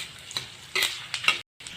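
Panch phoron, dried red chillies and bay leaves frying in hot mustard oil, giving a light crackle and sizzle with a few sharp spatula scrapes and stirs close by, cut by a brief gap of silence near the end.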